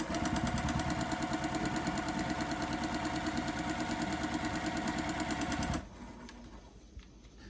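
A sewing machine runs steadily and loudly while stitching a quilt block, its rapid needle rhythm continuing for several seconds before stopping abruptly, leaving quieter background noise and a small click.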